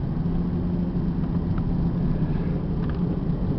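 A 2000 Ford Mustang with a 3.8 V6 idles through its muffler, a steady low throaty rumble that stays even and unbroken throughout.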